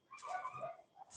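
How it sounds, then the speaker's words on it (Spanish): Dogs fighting somewhere in the distance, heard as a brief, faint whining yelp with a short yip after it. "Una pelea de perros"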